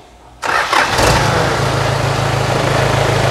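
A Toyota Bandeirante with a 14B diesel engine cranks and fires after a quiet moment, then settles into a steady, loud, close diesel idle with a low rumbling throb.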